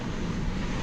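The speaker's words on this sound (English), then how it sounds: "clear for takeoff, American 660." A jet airliner rolls out for takeoff on runway 18 Left at Dallas-Fort Worth airport at night, its engines a steady, broad low roar with wind-like hiss, constant and fairly loud throughout.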